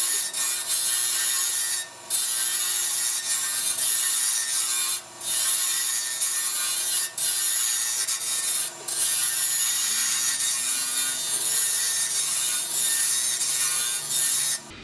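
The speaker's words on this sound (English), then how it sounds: "With my radius cutter here, I'm able to get a little bit of a curve to the handle, even using the rougher." Radius cutter scraping a stainless steel honey dipper handle on a lathe, a steady loud hiss-like rasp with brief pauses every few seconds.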